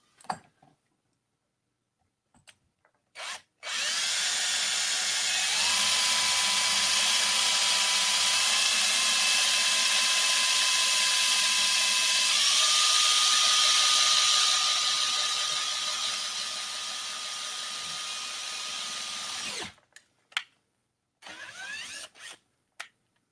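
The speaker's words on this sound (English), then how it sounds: "You can do silly things like drilling in the house" A power drill whirs steadily for about fifteen seconds, its pitch stepping up partway through, with brief clicks and knocks before and after, drilling indoors over a hardwood floor.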